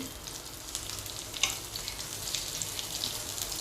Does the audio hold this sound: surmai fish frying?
yes